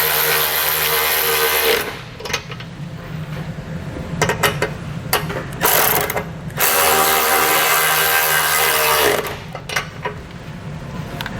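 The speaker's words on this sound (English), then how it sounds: "We'll now tighten down our hardware using an 11mm socket and wrench." A socket and wrench tighten 11mm bolts while a base plate is fitted to a 2016 Chevrolet Equinox, producing loud, steady ratcheting and metallic whirring close up, broken by short pauses and clanks.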